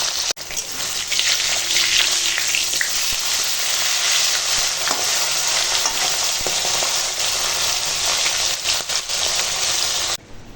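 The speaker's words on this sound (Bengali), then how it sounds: "চলো মাছটা এখন ভেজে নেব" Hilsa fish fries in a pan with a loud, continuous sizzle of hot oil that holds steady for about ten seconds, then cuts off abruptly.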